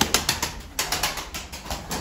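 Pigeons, kept as Turkish performing or flying breeds, sound close with repeated soft cooing and rustling, a steady pulsing of bird noise through the whole stretch.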